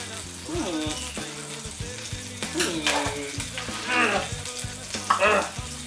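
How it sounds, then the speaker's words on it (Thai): Bacon sizzles and crackles in a hot pan, a steady frying hiss broken by stirring scrapes and clatters, while someone talks over it. "ตอนนี้เบคอนของเราก็กำลังได้ที่พอสมควรครับ"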